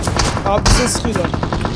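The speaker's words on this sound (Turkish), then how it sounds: "Abi bize sıkıyorlar." PUBG Mobile gunfire: rapid automatic shots crack in quick, close bursts, with a voice speaking under the shooting.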